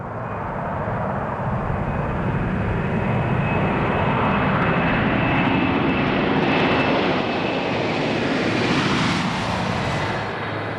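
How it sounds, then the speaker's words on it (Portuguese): A Boeing 747 jet roars loudly on its first-flight takeoff, a continuous powerful engine rumble that swells and holds steady for about ten seconds, with no voices. "Quando esse jato gigante decola pela primeira vez, é pilotado por um piloto de prova da Boeing."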